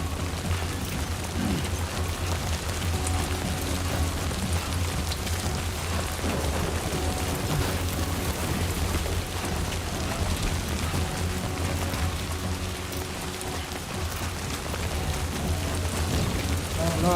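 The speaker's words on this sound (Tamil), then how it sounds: "என்ன மழையை பெஞ்சு விட்டீங்க?" Steady rainfall in the Death Stranding 2 game, a continuous dense hiss of falling rain with low rumbling underneath, constant throughout with no pauses.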